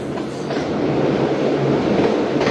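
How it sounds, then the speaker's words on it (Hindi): The Karachi Express pulls out of Sahiwal station with a loud, continuous rumble of rolling wheels and carriages and a steady rattle throughout, with no voices. "ट्रेन हो रही है रवाना साहिवाल से"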